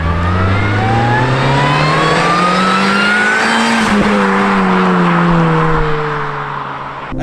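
A supercharged Mini Cooper S (R53) engine revs up steadily as it accelerates, the pitch rising then easing after a gear change; loud, close and continuous, with no talking.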